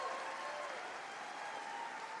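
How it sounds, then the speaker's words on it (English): A large arena crowd applauds a figure skating pair at a pairs free skate event, a steady dense wash of clapping heard at a distance with no talk. "And the crowd reaction to them"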